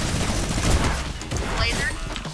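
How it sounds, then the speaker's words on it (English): A minigun spins and fires in a video game, a continuous loud stream of rapid shots with crashes mixed in, while an excited voice talks over the gunfire. "he has a minigun!"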